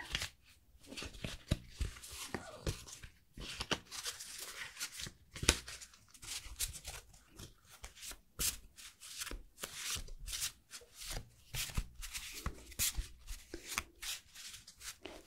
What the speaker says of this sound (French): Un jeu avec des cartes. Mais des cartes particulières. Puisqu'il s'agit de cartes Disney.